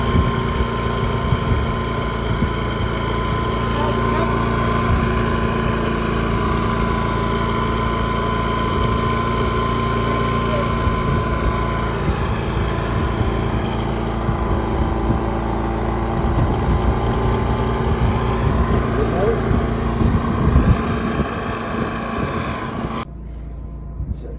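A running AIVOLT 10K watt inverter generator engine drones steadily and loudly for the whole stretch, with a constant mechanical hum and vibration, before cutting out abruptly near the end.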